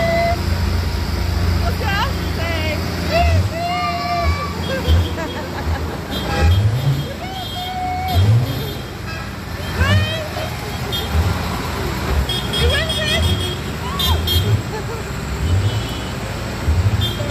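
Tractors rumble past one after another in a Christmas tractor run, engines revving and rising as each goes by, with excited crowd chatter and voices over the steady roadway noise.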